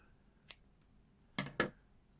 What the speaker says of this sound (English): you can just snip it off there